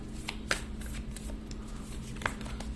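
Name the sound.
tarot cards being shuffled and drawn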